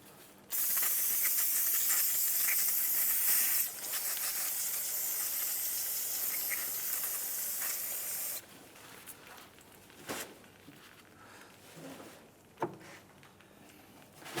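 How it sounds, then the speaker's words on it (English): Aerosol brake parts cleaner sprays in a loud, steady hissing burst onto the wheel hub and axle shaft splines of a 2015-2019 Hyundai Sonata, then a second long spray, followed by quieter clicks and handling noises. "So what we're going to do is hose it down with some brake parts cleaner."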